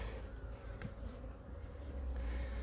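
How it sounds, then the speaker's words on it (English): Honeybees buzz steadily from an opened nuc box during a hive inspection, a close, constant hum with no talking. "There's a box of bees."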